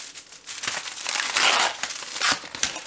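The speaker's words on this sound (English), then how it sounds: "When you peel that off like that, you've got your recyclable foil." Foil wrapper being peeled off a chocolate bar, giving close, loud crinkling and crumpling in continuous bursts that swell in the middle, with no talk.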